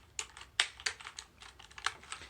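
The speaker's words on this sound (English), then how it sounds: "For example, this is a keyboard." Quick irregular key clicks from a computer keyboard, a dozen or so sharp taps in uneven bursts, close and fairly quiet with no voices.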